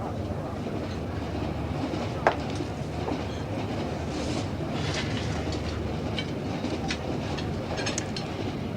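A passenger train runs along the rails with a steady rumble and rhythmic clickety-clack of wheels, heard from inside a carriage, loud and continuous with occasional faint squeals and clanks.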